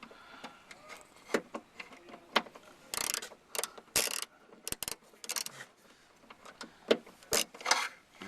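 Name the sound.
tightening bolts on Land Rover Freelander 2 tailgate trim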